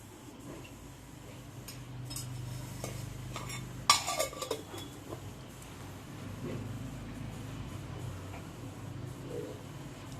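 A ladle scrapes and clinks against a metal cooking pot while oil is scooped in for a masoor dal amti, with one sharp clatter near the middle followed by a few softer knocks over a low, steady background hum.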